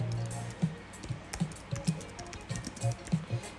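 Quiet tapping on a computer keyboard, irregular clusters of soft key clicks at close range in a room, continuing steadily through the short span.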